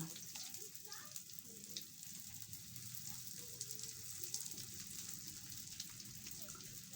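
Dynamite lumpia spring rolls fry in hot oil, a steady close sizzle and bubbling crackle running throughout with faint voices in the background.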